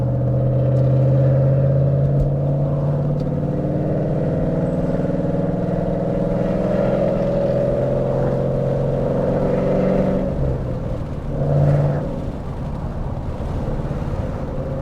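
A loud Ford Mustang GT engine rumbling and revving from inside the car on a drive, a deep sustained exhaust drone that swells and dips with shifts and a brief surge near the end, no talking.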